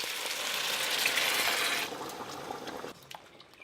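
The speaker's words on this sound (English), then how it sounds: "So I've given that a nice stir." Fried lamb pieces and gravy being stirred in a curry pot, a bright sizzling and liquid bubbling that is loud for about two seconds and then fades to softer simmering.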